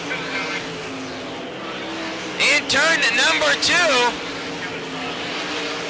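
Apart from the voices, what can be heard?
race car slowing down on the speedway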